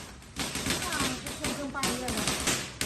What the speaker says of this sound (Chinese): 真的在那里放烟花呀！它这个烟花放不停了。